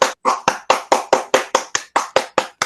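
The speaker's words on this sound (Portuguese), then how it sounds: "Eu gostaria só de todo mundo dar uma salva de palmas para todos os participantes aí" Applause for the participants comes as about a dozen crisp, evenly spaced claps in a steady rhythm, close and distinct, each separated by a short silence, and no talking.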